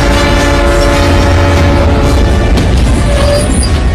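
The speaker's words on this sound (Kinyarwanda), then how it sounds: "wakunze gari ya moshi bira cyane" A train passes close by with a loud, continuous rumble of rolling wagons, overlaid by sustained horn-like tones throughout the few seconds.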